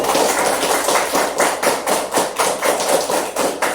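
A group claps hands together in a steady, rapid rhythm, a loud continuous patter of many palms with no speech.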